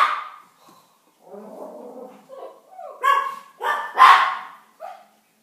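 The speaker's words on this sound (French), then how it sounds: "Mes chiens entendent un chien aboyer donc." Dogs bark several times in a row, sharp yips and barks rising toward the end, fairly close, with a soft whine and quiet gaps between the calls.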